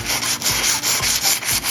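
A brushed metal shower door is scrubbed to remove rust, giving close, loud back-and-forth rasping strokes in a quick regular rhythm with no voices.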